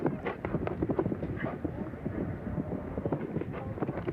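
Horses' hooves thud and clip-clop steadily at a 1983 show jumping event, a continuous close rhythm of strides under a commentator's voice.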